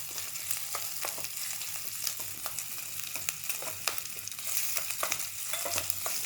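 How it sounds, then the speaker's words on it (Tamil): A spoon steadily stirs a simmering mixture of onion, garlic and fenugreek in a pan, with a soft continuous sizzle broken by frequent scraping taps and no talking. "அது வரைக்கும் இப்படி கிண்டி விட்டுட்டே இருப்போம்."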